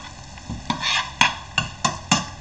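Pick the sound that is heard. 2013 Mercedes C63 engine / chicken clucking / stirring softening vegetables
stirring softening vegetables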